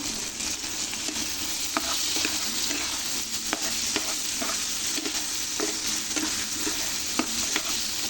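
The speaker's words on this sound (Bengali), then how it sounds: "এভাবে আমি ভালো করে কষিয়ে নেবো" Fish curry with culantro sautéing in a pan, a continuous broad sizzle with sporadic scraping clicks from stirring, close and steady with no talk.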